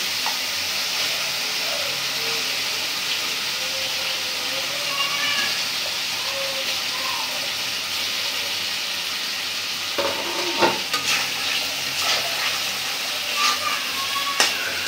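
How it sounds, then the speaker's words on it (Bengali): Pieces of sea surmai fish sizzle and fry in a pan of cooked-down spice paste, giving a steady, loud hiss with occasional stirring clatter toward the end. "মশলাটা কষানো হয়ে গেছে, এখন আমি মাছগুলো দিয়ে দিব।"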